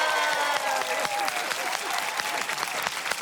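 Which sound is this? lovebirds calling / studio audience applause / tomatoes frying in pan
studio audience applause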